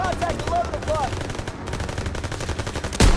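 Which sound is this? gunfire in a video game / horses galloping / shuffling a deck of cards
gunfire in a video game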